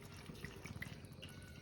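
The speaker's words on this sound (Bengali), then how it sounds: "এবার আমি এর মধ্যে একটুখানি জল অ্যাড করব।" Water poured into a cooking pan while chhana bora curry is being prepared, heard as a short, soft, steady trickle and splash lasting under two seconds, with no voices.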